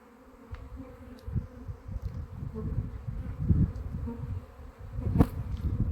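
Honeybees buzzing around beehives in an apiary, a steady low drone with individual bees passing close by, moderately loud and uninterrupted, no talk.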